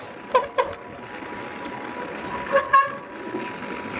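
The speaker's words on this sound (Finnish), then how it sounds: "joka kerta tulee merkkiääni" Short electronic beeps signal each brake press during a winter bike race series. They come as two quick pairs a couple of seconds apart over a steady low background hum.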